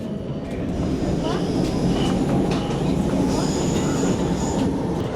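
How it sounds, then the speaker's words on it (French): A subway train rumbles steadily along the track, a loud continuous low roar with faint clicks and brief high squeals over it. "Deuxième chose, prendre le métro."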